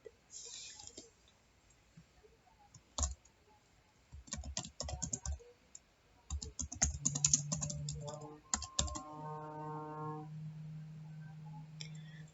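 Computer keyboard typing in a quiet room, scattered clicks that bunch into quick bursts between pauses, close and fairly soft, with a short electronic tone pattern near the end.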